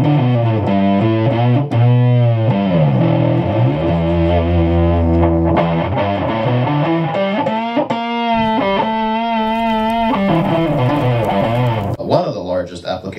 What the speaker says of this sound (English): adding the turbo distortion